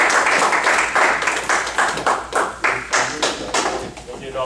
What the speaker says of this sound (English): please, I want to ask you to give him a round of applause